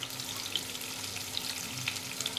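Potatoes frying in a pan, a steady close sizzle with soft crackles and occasional pops throughout, no voices.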